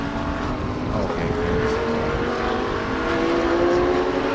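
A race car engine from the Thailand Super Series drones loudly and continuously as it climbs through the gears, its pitch rising steadily across each shift.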